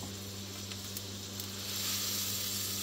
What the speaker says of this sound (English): Listen to that sizzling sound.